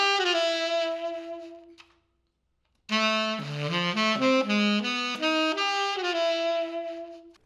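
Saxophone playing a jazz arpeggio lick over a 2-5-1 tritone substitution: a held note, a short pause, then a quick run of moving notes ending on a long sustained tone, loud and close.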